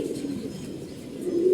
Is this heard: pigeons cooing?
yes